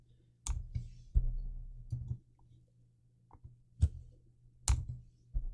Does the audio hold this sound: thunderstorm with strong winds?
no